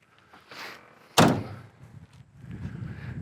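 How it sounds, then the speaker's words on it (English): A 1969 Chevy Camaro door swings shut with one solid, close thunk, preceded by faint handling noise and followed by low rustling. "for a 69 Camaro, those doors shut nice too"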